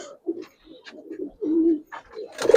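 Giribaz pigeons coo close by in a series of soft, low throaty calls, a few brief rolling coos spread over a couple of seconds with short pauses between them.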